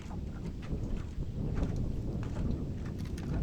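Strong wind buffets the microphone on a boat out catfishing, a steady loud rumbling roar with gusty bursts filling the whole short stretch, no talking.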